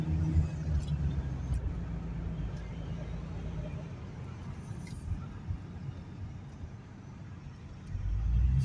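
Car driving up a winding mountain road toward a ski resort, steady engine and tire rumble close by throughout, swelling slightly louder near the end.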